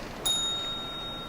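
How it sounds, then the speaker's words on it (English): A single clear ding of a small warning bell at a debate competition, ringing out and fading slowly over quiet background. "There will be one warning bell after 3 minutes and 30 seconds."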